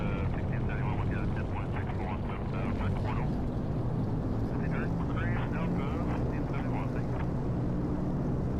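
Droning piston engines of a DC-3 in the X-Plane 11 flight simulator run at a steady, loud rumble throughout, with someone talking over the engine noise for much of the time.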